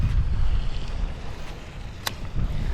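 Wind gusting across a pond on a windy winter day in Texas, a steady low rumble and buffeting close to the microphone, with a brief sharper gust partway through and no voices.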